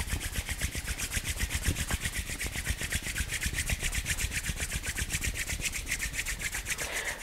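Palms rubbed briskly together to warm them during a home yoga class, a steady rhythmic rasping swish repeating quickly and evenly, close and fairly quiet, with no talking over it.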